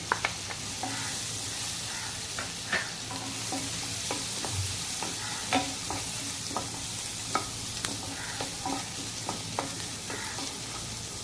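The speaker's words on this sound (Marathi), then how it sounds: "आपल्याला 2 चिरलेले कांदे ते घालून चांगले परतवून घ्यायचे" Chopped onions sautéing with fried garlic in a pan for mushroom soup: loud, steady frying sizzle close up, punctuated by frequent spatula scrapes and taps, with no talking.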